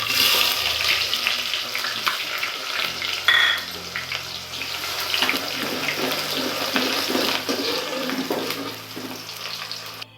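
Chopped medium-sized onion fries in a pan for pulao with a busy, continuous sizzle, joined by scattered stirring scrapes and clinks, fairly quiet and close with no talk.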